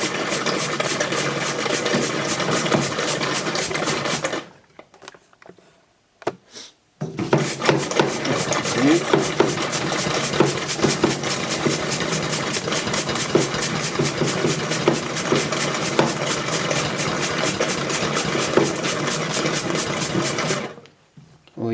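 A pump drones steadily while draining degreaser from a workshop parts-washer fountain, a loud continuous rattling whir with rapid regular pulses that cuts out briefly twice before restarting.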